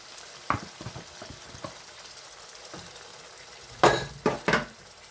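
Tomato paste fries in a pot of egusi soup, with a soft sizzle under scattered clinks and a few louder scraping stirs near the end.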